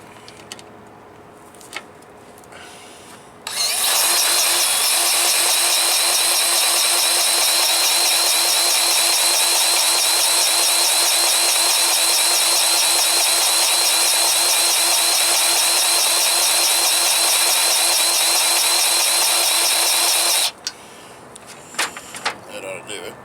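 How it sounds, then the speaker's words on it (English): Pinion seal on a front drive axle getting grease from a grease gun, a loud steady mechanical whirring and hissing that starts abruptly, runs unbroken for about seventeen seconds, then cuts off. "let me get the grease gun. We'll hit some grease in it."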